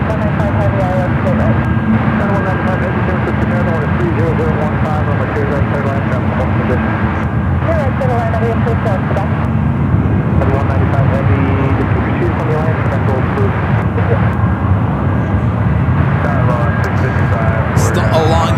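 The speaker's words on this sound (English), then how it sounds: "Also have SAS, the A350 now utilizing 19er left as it heads to the gates as well." An SAS Airbus A350 jet taxis toward the gates at San Francisco airport, a continuous loud engine roar and whine holding steady throughout, with a voice talking over it.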